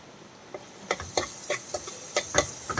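A spoon scrapes and stirs a spicy macaroni gravy masala with oregano in a pan, giving quiet irregular clicks and scrapes over a soft sizzle, close and alone.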